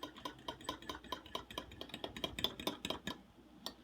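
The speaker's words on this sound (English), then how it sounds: "And then you just whisk it up." A whisk beats homemade salad dressing in a bowl, making a quick run of rapid, rhythmic metallic clicks and taps against the sides, close up and without any talk.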